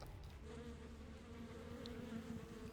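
Buzzing bees from a skin effect in the game SMITE, a steady droning swarm hum that carries on evenly throughout.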